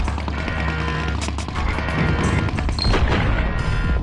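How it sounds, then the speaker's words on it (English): Explosions in Abe's Exoddus boom and crackle in rapid succession, mixed with gunfire-like bursts and a steady background rumble, loud and chaotic throughout. "Explosions are happening everywhere."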